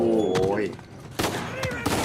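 Gunfire from a primary weapon in the video game Uncharted 4, a few sharp bursts of shots cutting in loudly amid game sounds, with someone talking over parts of it.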